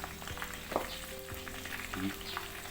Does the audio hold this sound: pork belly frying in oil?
yes